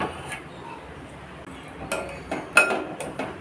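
Cucumber kichadi tempered with fried mustard seeds is shifted into a bowl, with a few sharp clinks of a spoon and metal dishes near the end, close by over a quiet background.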